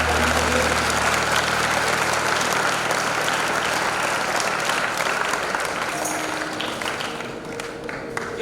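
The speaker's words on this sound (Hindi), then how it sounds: "और एक बार उनको ये वाकई में जोरदार ताली बजानी चाहिए।" Sustained applause from a school audience at an Independence Day birthday celebration and principal's address, a dense wash of clapping that fills the whole stretch and tapers slightly near the end, with some murmured voices underneath.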